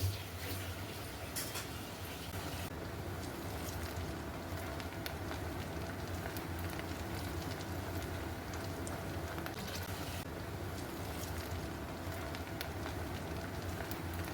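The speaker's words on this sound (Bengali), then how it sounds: "পেঁয়াজ কুচি বাদামি হওয়ার আগ পর্যন্ত ভাজতে হবে।" Chopped onions frying in mustard oil in a pan give a soft, continuous crackling sizzle, close and fairly quiet, steady throughout with no talking.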